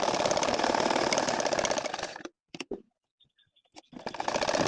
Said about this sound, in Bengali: এক সাইডে দেখেন আমি সেলাই করে নিচ্ছি।